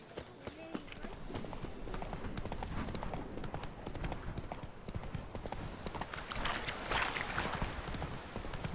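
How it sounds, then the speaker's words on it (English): Horse hooves clip-clopping in The Witcher 3 video game, a continuous close rhythm of hoofbeats at moderate volume, with only faint hints of a voice. "Whoa there, Roach"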